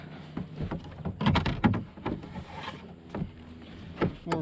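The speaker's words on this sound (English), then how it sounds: "We're gonna have to paddle our way out" A kayak being paddled through thick weeds at Moraine State Park, close splashes and swishes of the paddle in an uneven rhythm, with knocks against the hull and light wind.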